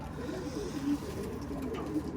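A pigeon gives two soft, brief coos a second apart, faint and somewhat distant over low outdoor ambience.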